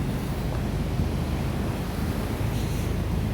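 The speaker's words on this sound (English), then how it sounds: "Sunbury Weir, bit of water coming over." Water pouring over Sunbury Weir on the River Thames: a steady, dense broadband rush with no break, heard alone and fairly close.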